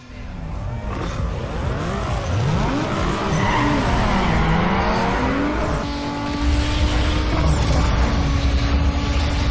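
Race car in the street-racing video game Need for Speed Underground 2 drifting, its tires squealing in long wavering skids over a loud revving engine, with a brief shift midway before the engine keeps howling.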